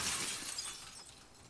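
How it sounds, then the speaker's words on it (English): Glass shattering in The Last of Us Part II, a bright, crackling high-pitched break that rings out loudly at first and thins over about a second and a half, with no talk. "No glass left untouched when Ellie comes around."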